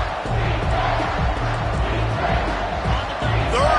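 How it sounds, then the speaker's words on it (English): Football stadium crowd roaring loudly and continuously on a third-down play, a dense sustained wall of cheering and shouting with a commentator talking over it. "this crowd will blow out a vocal cord to help this defense"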